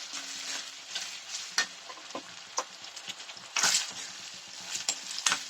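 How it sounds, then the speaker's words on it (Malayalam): Curry leaves and other ingredients for a gooseberry-tamarind pickle sizzle and crackle steadily in a hot pan, with occasional louder bursts and stirring scrapes, close and alone without talk. "കറിവേപ്പില ഇട്ടു ഇതെല്ലാം ഒന്ന് വാടി വരട്ടെ"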